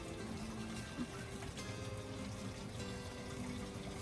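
A pump circulating water through a tower garden, giving a steady, continuous trickle and splash of falling water that stays fairly loud and even throughout.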